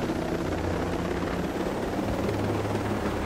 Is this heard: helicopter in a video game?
yes